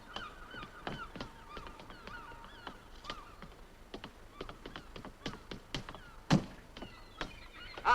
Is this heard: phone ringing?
no